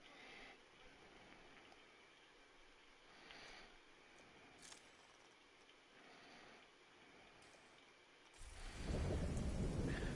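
Rain falls steadily in The Division 2 video game, with a soft hiss throughout and a loud rumble of thunder swelling near the end.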